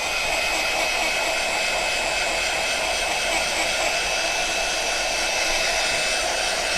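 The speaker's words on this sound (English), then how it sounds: "So really give it a good blast of your heat gun." A heat gun blows continuously while drying lightweight cardstock, making a steady close whooshing roar that holds an even level throughout and has no speech over it.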